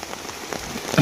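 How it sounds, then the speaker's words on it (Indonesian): Rain pattering on an umbrella held overhead outdoors, a close, dense patter of drops with a few sharper taps and no voices. "Karena ini memang kondisi sedang hujan, jadi kita harus memakai payung"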